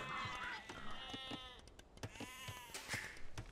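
Sheep bleating in Age of Empires II: Definitive Edition, a few wavering bleats, fairly close, set among clicks and game sounds with no talk.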